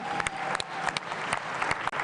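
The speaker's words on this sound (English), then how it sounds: "Give yourselves a big hand of applause" An audience of robotics teams and mentors claps at an FTC Super Regional opening ceremony, a broad, sustained applause with scattered sharper individual claps standing out. There is a whoop or two.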